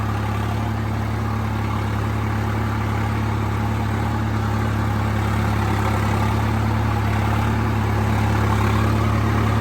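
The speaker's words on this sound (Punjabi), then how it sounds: "ਔਰ ਟਰੈਕਟਰ ਕੰਮ ਕਰਦਾ 4x4 ਏ ਵੀਲ ਟਰੈਕਟਰ" A four-wheel-drive tractor works a wet, puddled maize field, its diesel engine droning steadily and loudly up close with a constant low rumble and no pauses.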